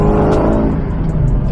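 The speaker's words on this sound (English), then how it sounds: "This car sounds so good" A 2003 Ford SVT Cobra Terminator engine revs loudly up close, its deep rumble rising and then easing off over a second and a half, with no voices.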